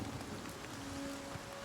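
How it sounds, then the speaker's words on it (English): Steady, faint rain hisses in The Elder Scrolls IV: Oblivion Remastered, a constant soft wash with a low background hum and no voices. "It's just because it's raining."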